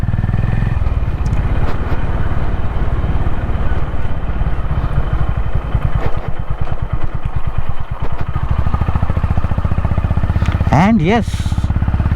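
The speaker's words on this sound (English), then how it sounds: "the thumping and roaring exhaust of CB350" A Honda CB350 motorcycle's exhaust thumps and roars continuously at close range on a solo ride with light off-roading, a steady rhythmic throb throughout, with someone speaking briefly over it.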